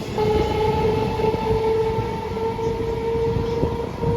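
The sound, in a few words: Krishnanagar local passenger train passing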